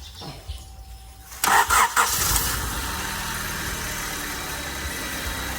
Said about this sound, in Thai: อ้าวพี่เอก สตาร์ท